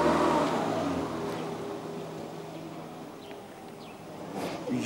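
A car driving up, a steady engine hum and tire rumble that is loudest at the start, eases off slightly, then swells again at the end, with no talk over it.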